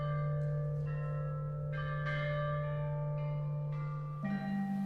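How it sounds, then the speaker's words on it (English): A monumental set of ancient Chinese bronze bells from just after Confucius' death, struck one after another in a slow sequence of ringing tones that overlap and sustain over a steady low hum. "played on totally wonderful things like this monumental set of bells that dated to just after Confucius' death"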